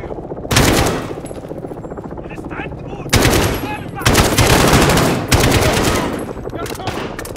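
Bursts of automatic gunfire from the video game Call of Duty: Modern Warfare, loud and close, with sustained rattling volleys separated by brief lulls of lower battle noise.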